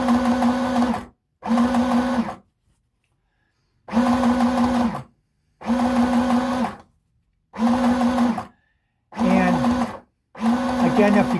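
Sewing machine stitching a red cotton skirt, a steady whirring hum in seven close bursts of one to two seconds, separated by short silent pauses.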